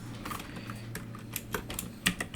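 Someone types a message on a computer keyboard, producing a quick, uneven run of close key clicks and taps.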